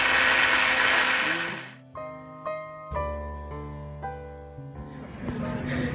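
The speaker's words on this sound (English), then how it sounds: "Walnuts are being ground up." A blender grinds walnuts in a loud burst, then pulses in short on-off spurts with whining motor tones, close up, while people talk quietly in the background.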